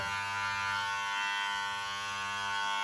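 An electric beard clipper runs close and steady, a loud continuous buzzing hum with a constant pitch and no pauses.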